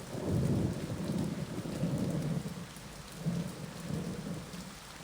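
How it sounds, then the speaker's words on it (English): Rain falls steadily on a street with low thunder rumbling in the distance, a continuous deep roll swelling and fading beneath the patter, with no voices. "I hear thunder rolling off in the distance."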